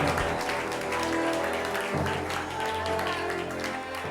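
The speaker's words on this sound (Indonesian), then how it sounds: "Beri tepuk tangan sekali lagi yang meriah untuk Safarudin dari Kota Makassar." A studio audience on a televised talent show applauds a contestant, a broad wash of clapping layered over steady background music.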